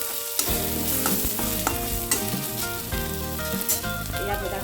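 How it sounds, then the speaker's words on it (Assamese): Ginger-garlic paste sizzles in oil in a pan for an Assamese fish curry, stirred repeatedly so a spoon scrapes and clicks in a steady rhythm over the constant close frying hiss. "এতিয়া মই এইখিনি ভালদৰে ভাজি দিম।"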